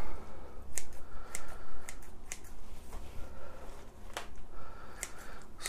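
Someone trims the longer roots from a loosened plant root ball, giving a few sharp, crisp snips spread unevenly through rustling handling, close and fairly quiet.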